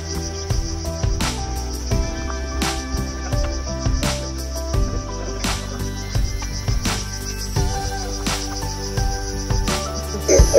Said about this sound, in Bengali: প্রচণ্ড শান্ত, সেই জন্য ঝিঝি পোকার ডাক সকালবেলাও শোনা যায়।